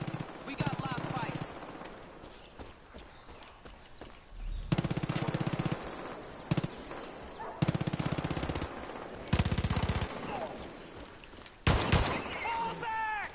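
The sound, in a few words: live gunfire in Far Cry 5 video game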